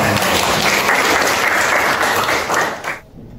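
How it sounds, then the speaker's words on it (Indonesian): Students in a classroom break into a burst of steady group clapping that stays loud and dense for about three seconds, then cuts off abruptly into near silence. "Oke, kita kasih tepuk tangan."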